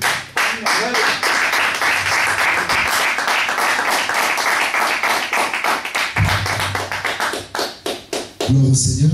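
A church congregation bursts into loud, sustained applause and rhythmic clapping in a gathering hall, continuing for several seconds before it thins out, with voices briefly heard near the end.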